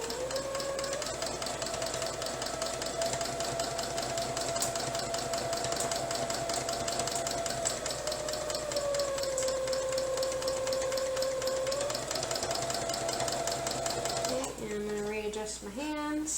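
A small domestic sewing machine quilting layers of a quilt runs in a long, continuous, even-pitched whir for about fourteen seconds, near and steady, then stops with a brief shift in sound at the end.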